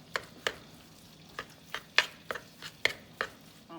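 A spoon mixes Cajun seasoning and garlic powder into a twice-baked potato filling. It makes a series of separate, crisp taps and scrapes against the bowl, irregularly spaced, over a faint background.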